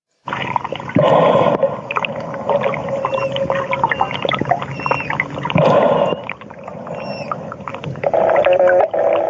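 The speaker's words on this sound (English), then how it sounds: "That tiny little squeaky sound. Cute little baby manatee that was in the water with me" Squeaky underwater calls of a baby manatee, short and high, come in scattered bursts over a steady murky rumble of water.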